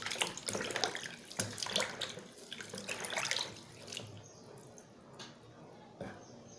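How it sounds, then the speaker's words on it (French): Water in a ritual cleansing bath prepared with three lemons is stirred and splashed by hand, giving close, irregular sloshing and trickling that fades to quieter drips and a single splash near the end. "Vous avez encore remué l'eau."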